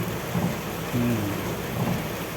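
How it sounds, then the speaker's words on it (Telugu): Heavy rain lashes down in Chirala, a thick continuous roar of drops with low rumbling underneath, loud and close, with no clear talk. "చిరాల వర్షం చిరాల వర్షం"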